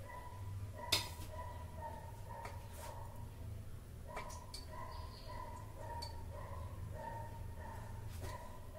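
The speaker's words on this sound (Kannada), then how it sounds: "ಬರೀ ಹೊರಗಿಂದ ನಾಯಿ ಬೊಗಳು ಸೌಂಡ ಕೇಳಿಸ್ತೈತಿ ನೋಡ್ರಿ" A dog barks outdoors, heard faintly from inside a home kitchen during cooking: a few scattered distant barks over a low steady background hum.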